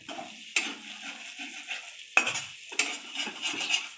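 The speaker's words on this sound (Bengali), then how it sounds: "আমার মশলাটা ভাজা হয়ে গেছে।" Frying spice masala for doi katla is stirred in a pan, with repeated sharp scraping strokes of a spatula over a low background sizzle, close and fairly loud with no speech.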